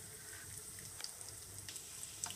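Garlic fries in a little hot oil for a tempering while taro roots are being prepared, giving a steady, close hiss of sizzling with occasional small pops throughout and no talking.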